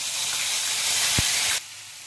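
Onion frying with bay leaf, asafoetida and cumin, a loud steady hiss of hot oil lasting most of the time with one brief low knock, then abruptly dropping to a quieter sizzle.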